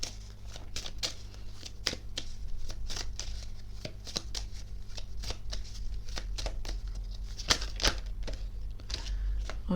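Tarot cards are shuffled for a reading in a steady run of close, crisp riffling and slapping clicks over a faint low hum.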